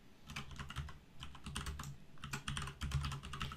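Rapid typing on a computer keyboard: quick, quiet clusters of key clicks in bursts with short pauses, close and alone.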